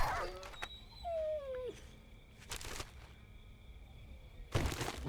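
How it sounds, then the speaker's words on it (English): A dog whimpers in the 7 Days To Die video game, with a faint whining moan rising and falling alone over quiet background hiss. "Probably take care of the puppy too"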